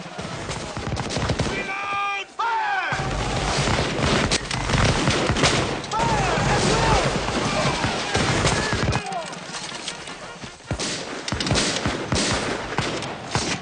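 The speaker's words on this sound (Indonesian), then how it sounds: "Adu tembak bergiliran yang mematikan ini pun langsung terjadi." Gunfire crackles in a dense, continuous battle mix between cavalry and infantry, with overlapping shots, hoofbeat-like clatter and shouting voices filling the scene at steady loudness, briefly dipping near two and nine seconds.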